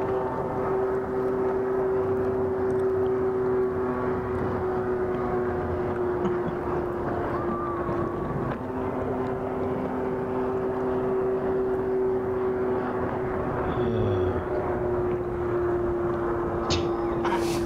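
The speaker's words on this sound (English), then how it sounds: "Freaking jet ski Charlie out there." A jet ski passing out on the water near a fishing spot, a steady droning motor hum that holds throughout with a slight rise and fall, heard at a moderate distance.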